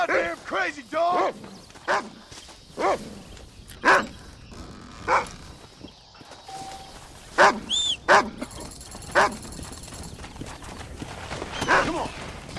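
Dog barking in the western video game Red Dead Redemption, a run of loud, sharp barks repeating every second or so, with a few hoofbeats and a voice talking over part of it.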